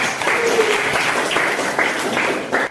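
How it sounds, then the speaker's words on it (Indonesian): A classroom of students applauds a group, a brief burst of steady clapping from several people at moderate distance, with a few louder claps toward the end. "kita berikan aplaus untuk kelompok"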